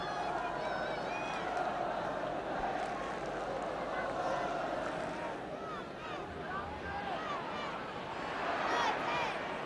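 A football stadium crowd at Manchester United versus Spurs roars and jeers in protest at a push on Chivers, a broad sustained swell of massed voices with commentary talking over it.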